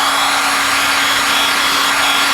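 A heat gun blows a loud, constant hissing roar with a steady motor hum, held close while warming sun-faded black plastic on a car, unchanging throughout.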